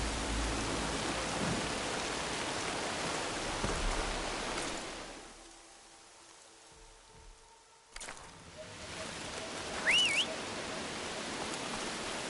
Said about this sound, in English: No escaping this rain.